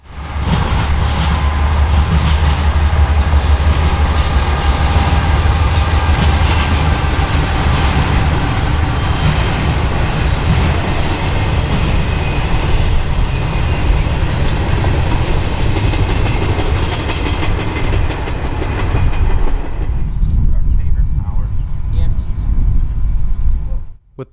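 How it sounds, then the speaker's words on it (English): A Norfolk Southern intermodal freight train rumbles past close by for a long stretch, steady roaring with rhythmic clanking of wheels, then cuts off abruptly. "we caught an even shorter intermodal on the Norfolk Southern"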